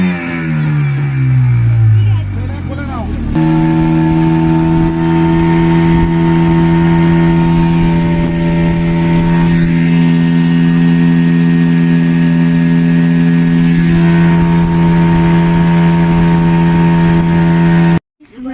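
A motorboat engine drones steadily through a boat ride on water, loud and close, with a rising whine at the start before settling into a sustained, even hum that cuts off abruptly near the end.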